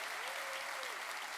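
Church congregation applauding during a worship service, steady dense clapping throughout, fairly distant and even, with a faint voice or tone drifting over it.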